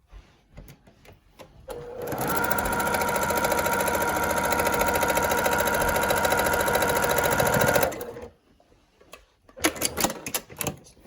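A sewing machine runs steadily for about six seconds, stitching pieced quilt fabric with a quarter-inch seam. A loud, continuous mechanical whir sits between brief handling noises at the start and end.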